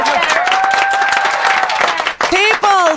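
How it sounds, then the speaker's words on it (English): A studio audience on Fox cheers and whoops for Medicare for All, a loud burst of crowd cheering and applause with high rising whoops, briefly dipping before swelling again. "People cheering for Medicare for all on Fox"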